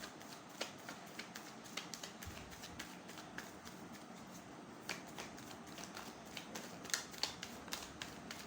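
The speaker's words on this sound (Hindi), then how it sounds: "ट्रेडिशनल टैरो डेक निकालते हैं" Traditional tarot deck being shuffled by hand, with a steady run of soft, close card riffles and taps over a faint background hiss, no talking.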